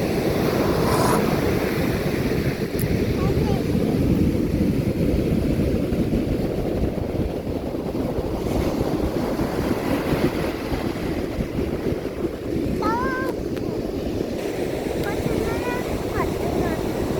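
Strong tidal sea waves wash in at a beach, heard as a continuous loud rushing roar mixed with buffeting wind on the microphone. No clear speech is heard.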